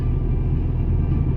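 Steady low engine and road rumble inside a 2008 Ford Mondeo while driving, continuous and even, with no voices.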